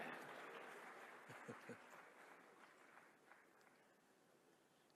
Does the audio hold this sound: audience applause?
yes